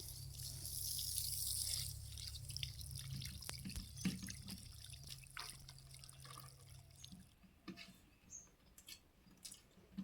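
Water trickling and dripping as potted lemon plants are watered, a soft steady pour fading into scattered drips, quiet and close with faint background noise.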